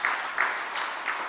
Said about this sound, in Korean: 우리 청년 박수로 환영합시다